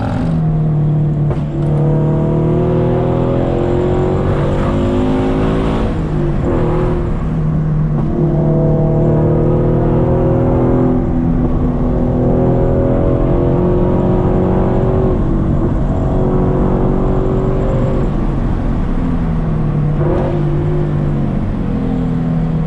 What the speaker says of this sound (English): I'm rolling the windows down. If there's wind noise, sorry.